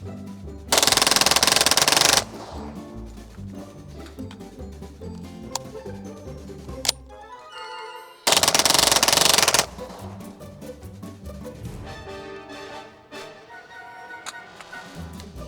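A Kriss Vector with a forced reset trigger fires two long, loud, rapid full bursts, each about a second and a half, with mechanical clatter and ringing between strings of fire.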